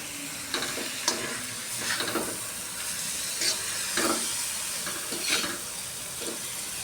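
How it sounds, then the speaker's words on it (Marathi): Chopped spinach sautéed in a pan, a continuous soft sizzle broken by repeated bursts of stirring and scraping, close and moderately loud, with no talking. "चिरलेलं पालक हे पण मी परतवून घेत आहे"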